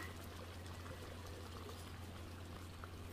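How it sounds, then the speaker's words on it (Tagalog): Coconut milk pours into a pot of goat kaldereta, a faint, steady liquid trickle running throughout under a low background hum. "Lagay tayo ng konting gata."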